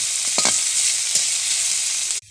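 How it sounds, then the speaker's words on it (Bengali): Onion, ginger and garlic paste frying in a hot pan with a steady bright sizzle, broken by a few quick stirring scrapes, before the sound cuts off abruptly. "রসুন বাটা দিয়ে দিচ্ছি দিয়ে ভালো করে নেড়ে নিচ্ছি"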